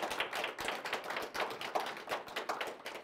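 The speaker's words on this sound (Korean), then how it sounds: "우리 선배 가정들에게 큰 감사의 박수를 보내주십시오" A congregation at a Unification Church gathering claps in thanks to its senior families: dense, steady applause from many hands that stays fairly close and even throughout, with no talking over it.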